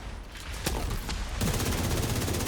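Rapid gunfire bursts in a first-person video game shooter, loud and continuous, with sharp individual shots early on giving way to a dense, sustained volley of automatic fire.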